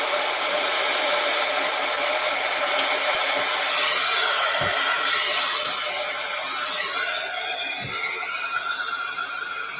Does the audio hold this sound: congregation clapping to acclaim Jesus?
no